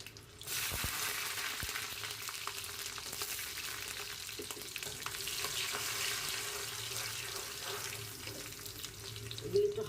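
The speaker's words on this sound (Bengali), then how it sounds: "আমের আচার ফোড়ন দিয়ে দিচ্ছি প্রথমে রসুন দিয়ে দিব আস্ত মানে পিস পিস" Garlic pieces frying in oil in a pan while tempering spices for mango pickle, a steady broadband sizzle with faint scrapes, fairly close and continuous, no talk.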